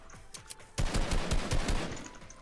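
Gunfire from a Fortnite arena duo match, with a sniper rifle in play: a quiet burst of shots, then a louder run of rapid reports, without speech.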